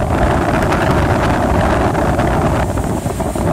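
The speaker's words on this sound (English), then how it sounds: "You're gonna hear a little wind noise, but it's trying to stay warm up here." Wind buffets the microphone on a rooftop beside a Bryant 10-ton rooftop HVAC unit, a loud, constant low rumbling roar that fills the whole short stretch with no speech.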